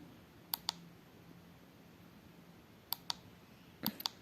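Buttons pressed on an On Call Plus glucose meter, a few crisp close clicks in pairs and a quick triple near the end, over a quiet room hush.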